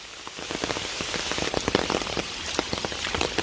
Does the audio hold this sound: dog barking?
no